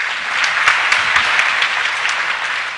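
Audience applause at a PHP developer conference session on web security, a steady wash of many hands clapping close and fairly loud for the whole stretch, with a few sharper individual claps standing out.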